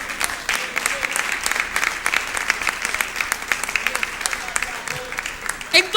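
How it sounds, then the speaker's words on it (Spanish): A church congregation claps in praise to the Lord at a worship service, a steady, dense round of applause filling the room, with a voice or two rising briefly over it. "Un aplauso de alabanza al Señor"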